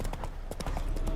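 A horse's hooves clip-clop in quick, steady rhythm in The Witcher 3 video game, close and continuous over a dense, busy background.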